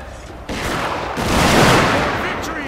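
Troops firing rifle volleys during the Battle of Fukushima Fields in Fall of the Samurai: a dense, continuous crackle of overlapping gunshots that swells louder midway and stays close and busy throughout.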